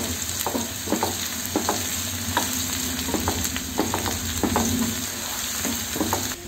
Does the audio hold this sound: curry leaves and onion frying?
yes